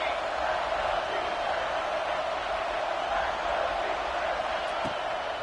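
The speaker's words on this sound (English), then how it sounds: "Decibels rising as the crowd gets behind this defense on 3rd down." Football stadium crowd roaring behind the defense on third down, a broad, sustained wall of noise under a commentator's voice.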